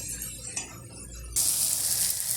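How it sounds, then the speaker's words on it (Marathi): Gram flour being stirred into fenugreek leaves cooking in a pan for pithla, heard as a low scraping stir that gives way to a loud, steady sizzle once hot liquid goes in, with no talking. "यामध्ये मी डाळीचं पीठ मिक्स करत आहे"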